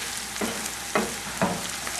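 Food frying in about three tablespoons of olive oil, with a steady close sizzle broken by a few louder bursts as ingredients are stirred or moved in the pan, no talking.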